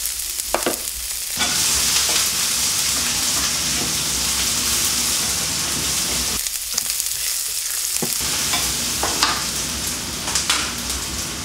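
Shallots, ginger and garlic hit hot oil in a pan for fried tofu and mushroom rice noodles, bursting into a loud, close, hissing sizzle that runs steadily with a few brief lulls and stirring scrapes.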